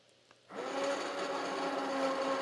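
A blender switches on abruptly and runs in a steady, close whir while mixing thickening deer tallow soap, with no talking.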